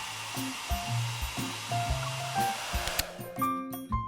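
A hair dryer blows on someone's hair in the Love and Deepspace game, a soft, steady airy hiss running beneath gentle piano notes, with no talking.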